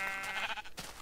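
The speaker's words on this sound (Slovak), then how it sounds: "Skúsime túto ovcu zabiť." A sheep in the video game Minecraft bleats in a short, close, wavering cry lasting about a second.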